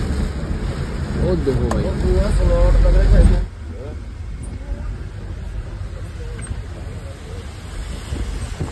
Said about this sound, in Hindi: ठंडी ठंडी हवा चल रही है भाई, गजब की बारिश हो रही है भाई